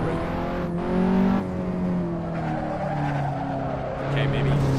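Race car engine droning steadily with tires squealing under braking in the racing game Assetto Corsa, a continuous close engine tone with pitch shifts and brief screeching.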